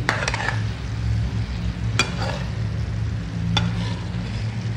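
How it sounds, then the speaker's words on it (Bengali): Pieces of hilsa fish stirred into masala in a pan, giving a steady low sizzle with scraping stir strokes and a few sharp clinks of a utensil against the pan. "আগে মাছগুলো দিয়ে এই মশলাটার সাথে একটুখানি ভালোভাবে মিশুক"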